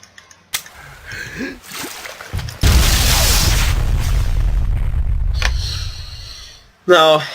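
A loud explosion in the D-Day Normandy first-person shooter, an underwater blast with a sudden deep boom and a long rumbling roar of churning water for several seconds, followed by a sharp burst at the end.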